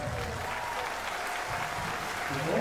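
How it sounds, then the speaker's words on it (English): Sustained crowd applause at a volleyball match award ceremony, steady clapping with a faint announcer or crowd voice underneath, swelling slightly at the end. "Big applause!"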